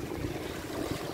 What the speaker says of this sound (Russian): Ветер, конечно, сумасшедший.